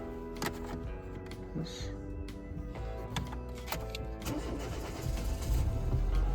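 A Renault Scenic 2 is started with a new key card: clicks and a short cranking lead into the engine catching and settling into a rising, steady idle close by, with no talking.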